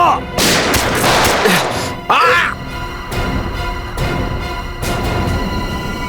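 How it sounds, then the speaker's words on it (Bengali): Gunshots in a TV crime drama, several loud sharp bangs spaced across a few seconds with a dramatic swooshing effect between them, heard over background music and sound effects. "সিআইডি অফিসারকে গুলি করে দিলি?"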